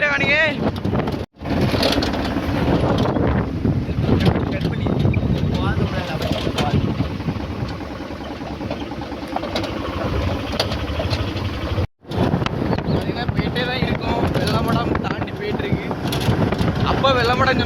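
A vehicle cruises along a highway bypass with steady, loud road and wind rumble throughout, briefly cut by two short dropouts, while people talk over the drive.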